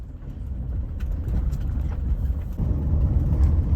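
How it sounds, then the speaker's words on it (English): A lifted 4x4 rolls over a bumpy, unpaved road near a trailhead parking area in Big Bend National Park, Texas, its steady low engine and tire rumble filling the cabin and growing slightly louder partway through. "I have a lifted 4x4, so I proceeded to head to the trailhead parking area."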